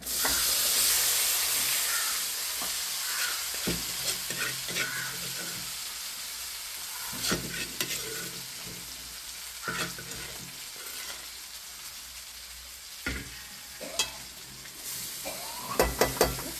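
Crushed jackfruit seeds for a Trivandrum-style chakkakuru thoran are stirred in a hot pan, a soft steady sizzle broken by intermittent scraping and clattering strokes of the spoon.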